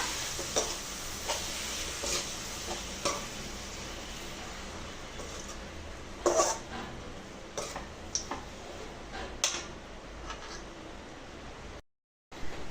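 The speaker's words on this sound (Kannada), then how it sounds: "ಇವಾಗ ಚೆನ್ನಾಗಿ ಫ್ರೈ ಮಾಡ್ಕೊಳ್ಳೋಣ" Beetroot frying for palya in a pan, a soft continuous sizzle with intermittent stirring clicks and scrapes, fairly quiet, with a brief gap near the end.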